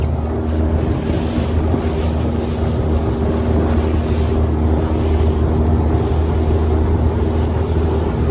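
A motorboat with a Honda outboard runs at 18 knots on a pollock fishing trip, a loud, unbroken drone mixed with rushing water and heavy wind buffeting on the microphone, steady throughout and with no talk.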